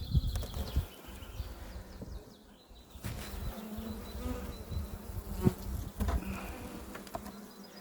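Honeybees buzz on a hive frame in a steady, close drone, with clicks and knocks from handling the frame; no talk.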